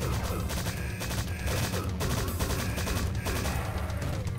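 Rapid bursts of gunfire from the first-person shooter Strife as a turret is shot out, dense repeated shots and crashes layered over game music, loud and continuous throughout.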